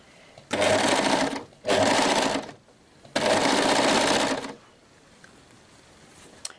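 An overlock serger runs in three loud, steady bursts while sewing the seams of a kimono, each lasting about a second or more with short pauses between, ending in quieter room noise.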